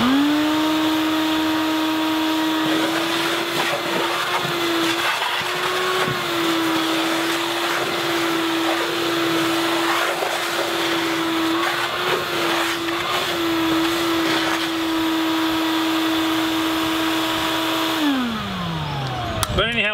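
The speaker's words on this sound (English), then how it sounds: "I'm going to just turn on my vacuum cleaner and suck out the rest of the water" A vacuum cleaner sucks the remaining water out of a garden fountain, running steadily with a high motor whine and gurgling suction, then winds down near the end.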